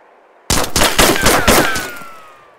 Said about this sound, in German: Schieß einfach mal drauf.